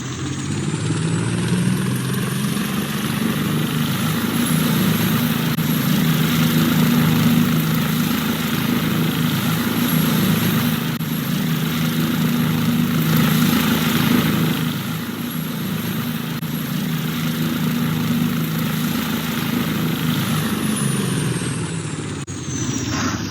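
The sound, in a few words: RC helicopters starting up and running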